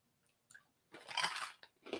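Crunching bites of a caramel-coated snack, close up: a couple of faint early crunches, then a loud sustained burst of chewing and a final crisp bite, with no talking.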